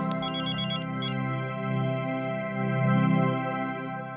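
A phone ringtone plays: a bright electronic tune with quick high beeping bursts at the start, fairly loud and close, with no talking.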